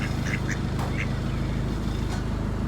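Ducks beside a narrowboat on a canal quack in several short, close bursts over steady low engine or water rumble, with no talking.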